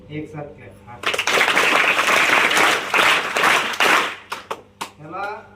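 A group of students clap together in a burst of loud, dense applause lasting about three seconds, with a few scattered claps trailing off and speech before and after.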